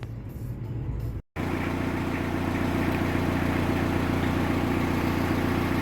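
A Mitsubishi L200 pickup engine idles steadily with a constant low hum and broadband rumble, loud and close, after a brief cut near the start.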